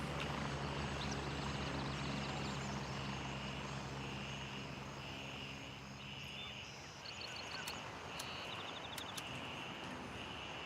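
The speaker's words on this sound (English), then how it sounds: "That is a close landing, chopper." A helicopter lands close by in the game Arena Breakout, a loud, steady rotor and engine roar that fills the whole clip, easing slightly partway through, with faint high chirps over it.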